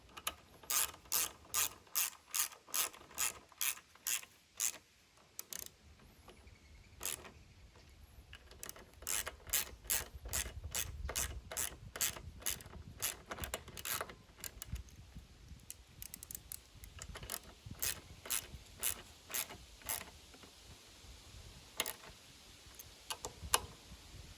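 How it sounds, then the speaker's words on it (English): A hand ratchet tightening bolts on a Toro self-propelled lawn mower, with rapid, crisp clicking in bursts and short pauses between strokes, close up and steady throughout, with no talking. "And we'll tighten everything down."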